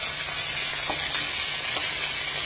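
Yellow and red tomatoes cooking in a pan with shrimp and cabbage nearby, giving a steady, dense sizzle and frying hiss throughout with a few faint stirring clicks, close and continuous.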